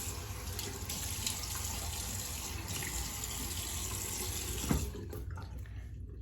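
A tap runs steadily into a sink for a quick rinse after shaving, a constant close splashing hiss that breaks briefly near the end and then stops.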